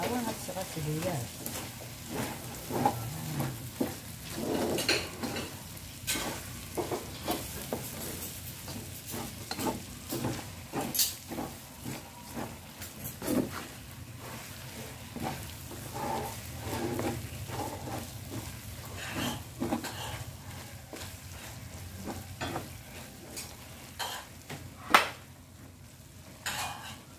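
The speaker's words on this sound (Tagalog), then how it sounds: "halo na natin ang karne sa bawang at saka sibuyas." Meat is stirred and sautéed with garlic and onions for spaghetti sauce, with a soft ongoing sizzle and repeated utensil scrapes and taps against the pan, under occasional talk.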